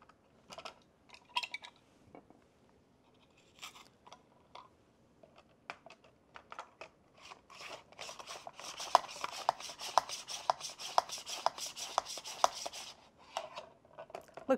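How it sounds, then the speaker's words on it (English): Onion being sliced on a mandoline slicer set to its second thickness setting, a run of quick, crisp rhythmic scrapes and clicks that speed up and grow louder toward the end, heard alone and fairly close. "let's slice an onion. We're going to do it on the second setting."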